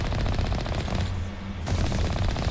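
Rapid bursts of enemy gunfire in the Mass Effect Legendary Edition video game rattle on continuously, a dense automatic clatter that pauses briefly in the middle before resuming, loud and heard without talk.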